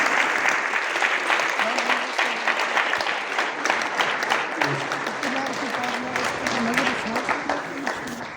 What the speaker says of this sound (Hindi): मैं चाहता हूं कि जोरदार तालियों से इसको हौसला दें।